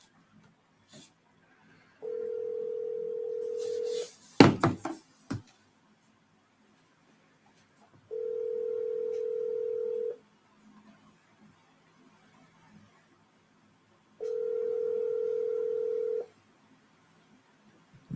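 Calling back on a phone whose speaker is quiet: a burst of dialing tones, then a steady ringback tone repeating in long two-second pulses with silent gaps, faint and alone apart from brief handling clatter.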